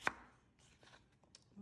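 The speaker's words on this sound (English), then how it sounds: "So after this rough chop, we're going to rinse" A knife roughly chopping potatoes on a cutting board gives one sharp, close chop at the start, followed by faint scattered knocks and kitchen handling sounds.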